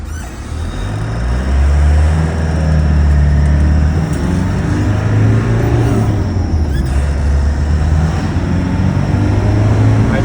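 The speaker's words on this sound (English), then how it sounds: "you can hear that turbo kicking in, that high-pitched whine" A turbocharged car accelerating hard through the gears on an open road, its loud engine climbing and dropping in pitch with each shift, close and continuous with no talking.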